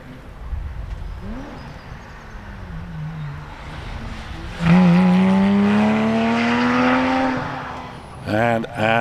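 A Porsche 997 GT3 race car climbs a hillclimb course, its engine rising in pitch through a long wailing pull, with a sharp gear change near the end, all under a commentator's running talk.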